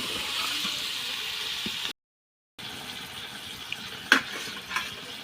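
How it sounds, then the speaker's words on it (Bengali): Meat and spices being stir-fried in a pan, a steady hiss of frying with a brief silent gap and a few scraping clicks of stirring. "মশলা দিয়ে দেওয়া হইল, এবার মশলাগুলো কষুক"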